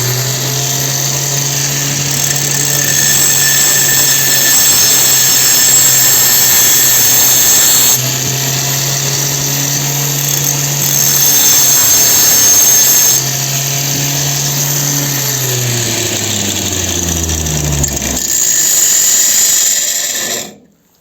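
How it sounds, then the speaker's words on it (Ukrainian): An angle grinder whines continuously at high speed, its pitch shifting slightly as it bites into a metal bicycle bearing cup, then spins down and stops at the end. "Тобто ми вмикаємо болгарку."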